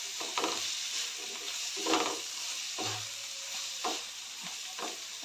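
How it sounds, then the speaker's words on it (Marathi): Roasted ridge gourd stirred and fried with tomato and onion in a pan, a steady sizzle under repeated scraping stirs that land about once a second, close and clear. "आता आपण दोडका जे भाजून घेतलेला आहे ते यामध्ये घालते. चांगलं व्यवस्थित मिक्स करून चांगलं परतून घ्यायचं आहे."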